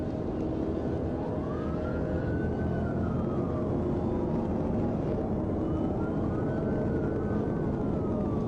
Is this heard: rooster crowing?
no